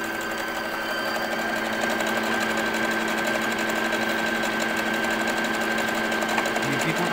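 A Brother sewing machine runs steadily through a picot stitch, a continuous close mechanical whir with an even, fast needle rhythm and no talk.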